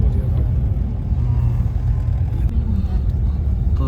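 Low, steady engine rumble of a car crawling slowly through dense forest on a night drive in Pilibhit Tiger Reserve, a continuous deep drone with no sharp events.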